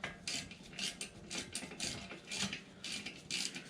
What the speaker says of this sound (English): Look up the torque specs of these caliper bolts, the guide pins, torque them to spec.